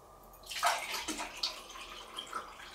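Water pours into a container in a kitchen, a close splash that swells and then trails off into lighter trickling and gurgles.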